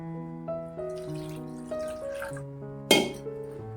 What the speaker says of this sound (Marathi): पाणी घालायचंय.